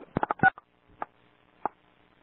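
Telephone keypad tones as star and six are pressed to unmute a phone on a call-in line: a quick cluster of short beeps, then two separate single tones spaced apart, each crisp and clear against near silence.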